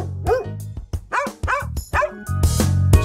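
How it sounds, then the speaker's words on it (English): Dogs barking in a medieval town and village ambience sound effect, a series of four or five sharp barks in quick succession followed by denser yapping, close and clear. "Both the cows and the dogs I've taken from the Medieval Towns and Villages ambience kit elements."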